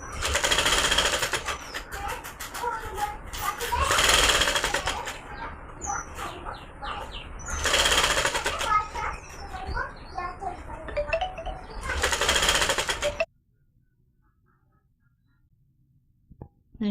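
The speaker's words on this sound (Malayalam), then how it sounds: "ഒരു 1/2 ഇഞ്ച് വീതിയിലുള്ള പ്ലീറ്റ് ഇട്ട് സ്റ്റിച്ച് ചെയ്തെടുക്കുക മുഴുവനായിട്ട്." Sewing machine stitching half-inch pleats along nighty fabric, running in loud bursts of rapid mechanical chatter separated by quieter handling sounds, then stopping into near silence.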